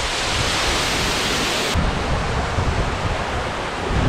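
Birthi waterfall pouring into a pond below, a loud, steady broadband roar of falling water that fills the whole clip without a break.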